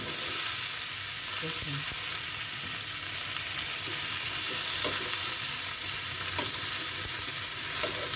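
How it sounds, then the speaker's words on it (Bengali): Cauliflower and other vegetables for a fish curry fry in a hot pan with a constant bright sizzle, broken by a few light clicks and taps of stirring, up close and with no talking. "তরকারিটা এখন ভেজে নেবে।"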